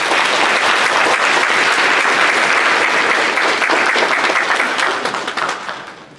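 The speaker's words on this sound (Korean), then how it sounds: "우리 격려의 박수." A church congregation breaks into loud, dense applause that holds steady, then thins and fades out over the last second or two.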